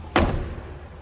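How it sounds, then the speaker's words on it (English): A single solid thud as the door of a 1996 Chevrolet K1500 regular cab 4x4 pickup swings shut, close and fairly soft, followed by quiet ambience. "So nicely that door closes."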